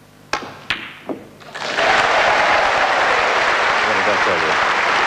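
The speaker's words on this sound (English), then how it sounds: "This red goes in now, be a tremendous cheer." Loud crowd cheering and applause erupt and hold steady after a few sharp knocks of snooker balls at a professional snooker match.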